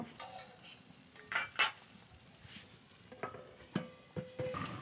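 A lid goes onto a pot of duck meat curry after water is added, heard as a few light metallic clinks and taps against quiet kitchen background, close by, with no talking.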